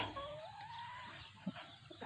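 A fighting rooster from a legendary Thai bloodline gives a faint, brief drawn-out cluck over a quiet outdoor background, followed by a small sharp knock.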